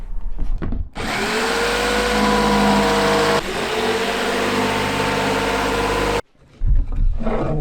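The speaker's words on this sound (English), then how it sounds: "Now I'm going to cut that out with my jigsaw exactly the same way as I would do on the van" A jigsaw cuts a window opening as a trial run for a Peugeot Boxer L2 H2 camper van conversion: a loud, steady buzzing drone runs for about five seconds with one brief shift midway, then stops abruptly, followed by handling noises.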